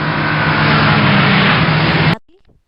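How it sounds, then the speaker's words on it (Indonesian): A car engine roars loudly and steadily at close range for about two seconds, then cuts off abruptly, leaving near silence. "Sora mobil ngagerung."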